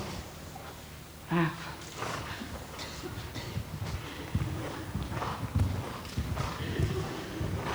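Hooves of the horse Salinero during dressage training: steady rhythmic clip-clop footfalls on an arena surface, close and moderate, with a brief snort early and faint background voices.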